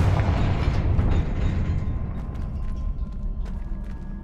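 Confringo blasting spell explosion in Hogwarts Legacy, a loud deep boom that rumbles and fades over a few seconds, with scattered small crackles in the tail.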